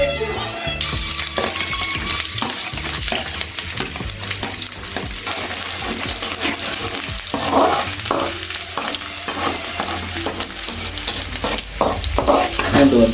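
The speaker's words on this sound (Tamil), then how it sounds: "பூண்டு வந்துட்டு ஆல்மோஸ்ட் ஃப்ரை ஆகிடுச்சு." Garlic frying in hot oil for macaroni pasta, a steady loud sizzle with scraping stirs running throughout, no talking.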